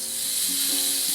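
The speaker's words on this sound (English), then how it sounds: "So I'm going to cook the fillet now for about a minute or so on that side" A kangaroo fillet sears in a hot pan with a little olive oil, making a brief, continuous, bright sizzle at close range with no talk over it.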